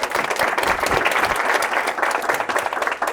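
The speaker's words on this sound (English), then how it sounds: "So give yourself a round of applause for being here." A seated audience at a costume designers' master class breaks into sustained applause, dense overlapping clapping that stays steady and fairly loud throughout with no voices standing out.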